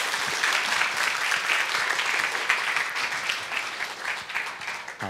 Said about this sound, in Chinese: 我们热烈的掌声欢迎李旺龙李教授